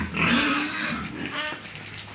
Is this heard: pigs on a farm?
yes